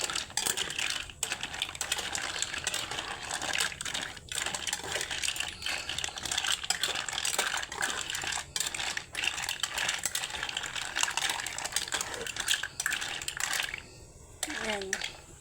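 Mussels being stirred in a pan while cooking sautéed mussels, a continuous clatter of shells scraping and clinking against metal, close and busy, ending with a brief spoken word.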